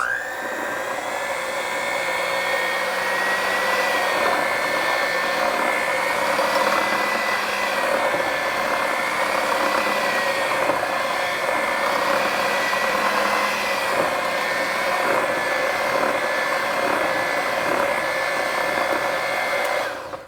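An electric mixer blending dry ingredients with milk into a batter for a cottage cheese blueberry bake, a loud, continuous close motor whir that holds steady for about twenty seconds with no talking.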